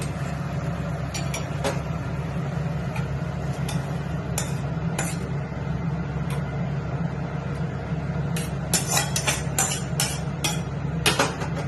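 Metal pot of morula fish chorchori with boiled potatoes lifted off a kitchen stove, with a steady low burner hum beneath scattered sharp clinks and scrapes of metal against metal, close and fairly loud.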